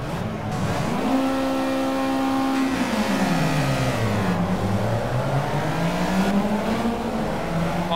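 A race car engine in the Project CARS game revs hard and climbs through the gears at the start of a race, a loud continuous whine that rises, dips at shifts and climbs again, close and with no talk.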